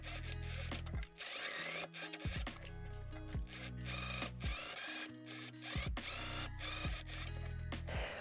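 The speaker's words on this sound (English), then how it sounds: "So now I want to sew from 1 millimeter seam allowance all the way up to 5 millimeter seam allowance." A sewing machine stitches a seam on a dirndl pocket in steady, loud, close runs of rapid mechanical whirring, pausing briefly at intervals between bursts, with no voices over it.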